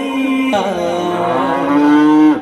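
A village cow in the Konkan region gives one long, loud, close moo lasting about two seconds, heard alone with no talk.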